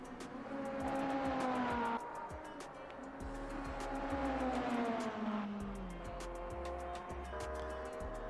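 Race cars in a multi-class LMDH and GT3 sim race at Spa howl past, engine notes rising and falling as one car overtakes another, with a loud sustained roar and gear shifts throughout, alone.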